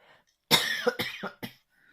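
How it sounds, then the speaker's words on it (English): A few harsh coughs in quick succession, close and loud, with a raspy throaty edge, surrounded by near silence. "I'm going to cough"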